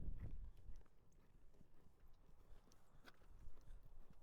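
Faint hoofbeats of a horse clip-clopping on the ground at a walking pace, distant and soft against a quiet outdoor background.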